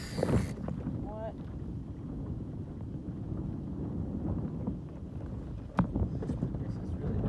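Gusty wind buffets the microphone aboard a small sailboat, a rumbling roar with a few sharp knocks and creaks, steady throughout with no clear speech.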